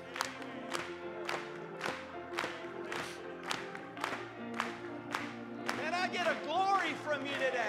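A church congregation claps in a steady, regular rhythm, each clap sharp and evenly spaced, with singing and voices underneath that swell louder toward the end.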